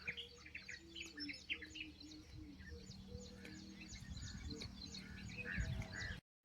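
Pigeons back at their loft after a long toss flight, giving soft repeated calls and chirps close by, with scattered bird sounds over a low, quiet background rumble.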